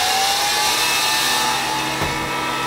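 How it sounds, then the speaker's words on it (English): A CNC machine spindle spins steadily under a Mach3 manual tool-change setup, giving a loud, continuous mechanical whine and hum. A faint rising tone appears early on, and a short clunk lands near the end. "Start the spindle."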